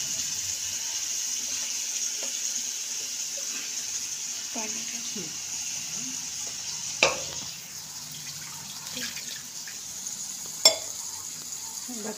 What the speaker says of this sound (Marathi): बघा, याला परत तळून घ्यायचं आहे मसाल्यासोबत।